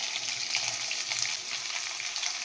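Curry leaves and chopped onions fry in hot oil in a pan, a continuous bright sizzle and crackle with no talking.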